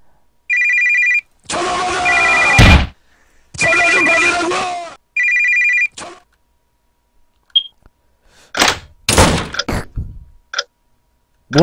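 A telephone rings in a horror video game, sharp electronic trills recurring among loud thumps and clattering noises, followed by scattered knocks and bangs; busy and close, with no clear talk.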